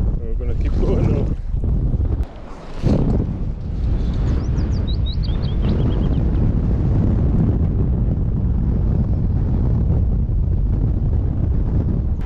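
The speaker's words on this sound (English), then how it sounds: "Wind on the surface of the water here." Strong wind buffets the microphone beside a river on a spring fly-fishing trip for wild brown trout in Northumberland, a loud continuous roar, with a voice briefly heard and faint birdsong.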